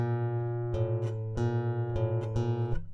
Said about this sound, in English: So we strum the top string,